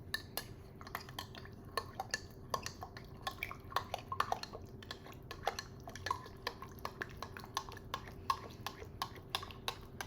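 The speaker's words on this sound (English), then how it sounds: "you'll have to stir it for a little bit just to incorporate the flavor" A spoon stirs a black cinnamon tea pouch into a drink, giving a steady run of light clinks and taps against the cup, with soft swishing underneath and no talking.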